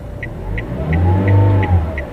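A car engine revs up under gentle throttle on an uphill during a driving lesson, its hum rising and swelling. A short, regular beep sounds about every third of a second over it.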